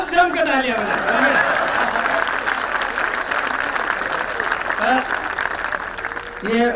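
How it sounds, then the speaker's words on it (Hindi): An audience at a comedy poetry gathering in Nagpur breaks into sustained applause, a thick, even roar of many hands clapping close by, with some speech heard at the start and end. "भाई एक बार खूब जम के तालियां बजाओ।"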